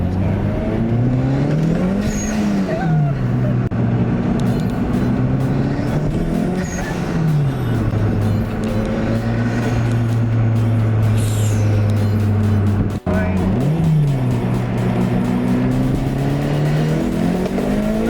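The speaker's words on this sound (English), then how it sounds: "the car still in first gear breaks the wheels loose" Turbocharged 275 hp Lotus Elise accelerating hard from first gear with wheelspin, engine note climbing through repeated revving pulls and gear changes, loud and close throughout with a brief cut near the end.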